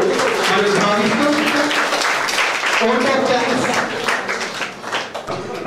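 Students at a rice bag challenge event in Armoor clap loudly, a dense, continuous applause that holds strong and then thins toward the end, while a voice speaks over it through a microphone.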